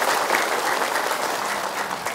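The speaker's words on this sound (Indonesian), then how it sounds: "boleh tepuk tangan dulu ya" A studio audience at the Indonesian religious talk show Siraman Qolbu claps together, a dense, steady wash of applause that holds at full strength for the whole stretch with no voices on top.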